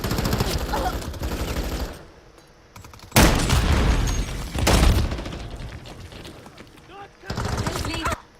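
Rapid bursts of automatic gunfire and explosion booms fill a first-person shooter match, loud and dense, with quieter lulls between barrages and a character voice shouting over the action.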